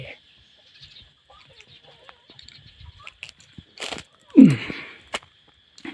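Chickens cluck in a rural Lao yard, with scattered soft clucks and one louder close squawk near the end, set against faint background noise and light movement.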